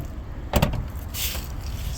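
A 2023 Volvo S90 B6's soft-close hood is lowered and shut, giving a single heavy thump near the middle followed by a brief settling whir, close by and alone.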